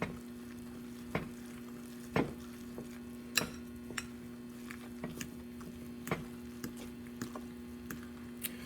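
Banana bread batter with butter already mixed in being stirred into dry ingredients, giving soft scraping and squishing strokes with a few sharper knocks against the bowl, close by over a steady low hum and without talk.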